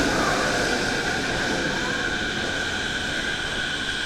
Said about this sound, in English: Look at that monorail, dude.